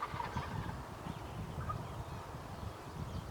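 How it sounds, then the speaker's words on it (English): Wild turkey gobbling in the open outdoors near hunters' decoys, heard as a moderate, somewhat distant call over steady background rustle, with no talking. "Every time you hear another gobble, he gobbles."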